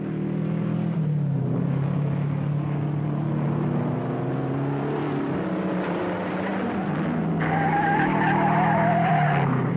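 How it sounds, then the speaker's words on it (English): At a 1960 motor race, a race car spins out with a long, loud tire squeal and skidding under a droning engine, and a rising higher-pitched whine joins near the end. "Despite this spin, Dwayne Carter went on to finish 12th"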